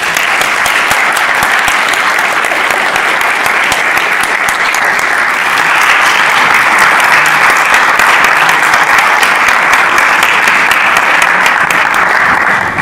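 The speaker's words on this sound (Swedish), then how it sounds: "Till det så ger vi en stor applåd till Karina" An audience at a Swedish panel event on social entrepreneurship gives Karina loud, sustained applause, a dense wash of clapping that holds steady across the whole stretch and swells slightly midway.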